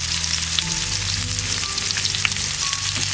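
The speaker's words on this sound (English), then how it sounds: "Get that garlic going in the pan." Garlic, onion and peppers fry in a pan with a little salt, giving a steady, dense sizzle throughout with faint tonal hum underneath and no voices.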